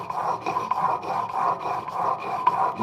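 A tool blade is sharpened to reestablish its bevel, likely on a diamond plate, producing a steady, close rasping scrape in continuous back-and-forth strokes.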